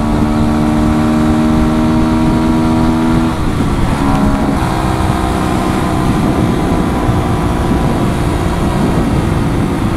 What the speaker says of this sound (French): il y a plein de vent, alors le vent je sais pas d'où il vient